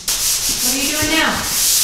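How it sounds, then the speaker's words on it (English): Steady, close-up sanding of drywall compound, a continuous gritty rasp with rhythmic back-and-forth strokes and no talking. "Sanding my first coat of mud off."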